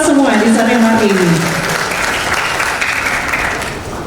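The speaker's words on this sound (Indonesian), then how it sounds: "Tepuk tangan untuk kita semua di sore hari ini." An audience at a cultural certificate ceremony claps in a dense, continuous burst, with a voice speaking over the start before the clapping carries on alone.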